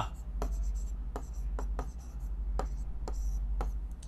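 A pen writes an answer on paper during a Class 8 Sanskrit lesson: a sequence of short, sharp scratching strokes at irregular intervals, close and clear over a low steady hum, with no talk during the writing.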